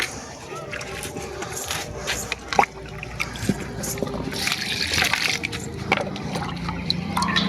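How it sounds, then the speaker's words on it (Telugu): Water is poured onto potted plants in a rooftop terrace garden, giving uneven trickles and splashes with a few sharp drips, close by and fairly quiet, with light background noise. "ఇప్పుడు వాటర్ పోసుకుందాం"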